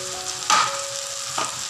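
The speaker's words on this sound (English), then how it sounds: "We have fried up all the vegetables smoothly." Okra and potatoes fry in a pan with spices, a steady close sizzle broken by two brief louder bursts of stirring or scraping, with no voices.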